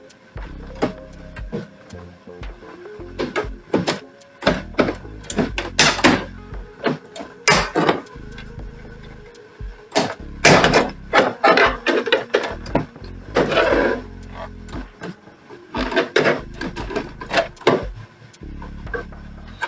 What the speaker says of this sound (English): So I will be able to remove this front panel carefully.